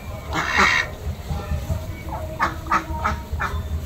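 Ducks quack in several close, rough bursts, a loud pair of calls early on and then a quicker run of quacks, with faint background noise between them.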